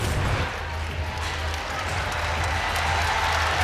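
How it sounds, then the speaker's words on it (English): A women's college basketball crowd in an arena gives a steady round of applause for a player, a continuous wash of clapping and murmur at moderate distance with no break. "the crowd gives her a nice round of applause"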